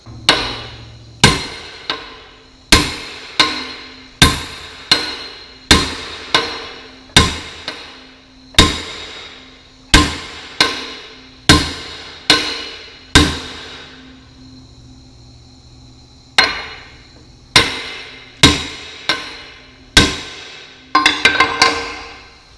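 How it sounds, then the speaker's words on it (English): Heavy metal hammer blows ring out in steady bursts against a dozer blade part, each sharp clang decaying, with a pause midway and a rapid flurry of strikes at the end. "Get a bigger hammer and bump that."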